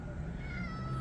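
At a Denver fan convention, a person imitates a cat with a short, fairly quiet meow over a busy hall background.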